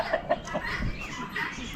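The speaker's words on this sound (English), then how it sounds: "Here, rooster." A rooster at an Amish animal auction gives a few short clucks, close and fairly clear against a busy background, with no talk.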